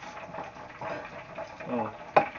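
Chips frying in hot oil, a soft steady crackle and sizzle with faint stirring and a sharp clink near the end, quiet and close.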